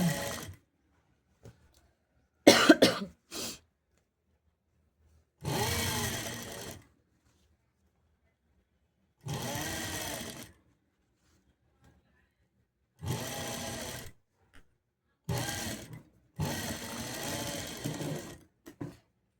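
A sewing machine stitches piping onto a blouse in several separate bursts, each a buzzing whir lasting a second or so, with silent pauses between.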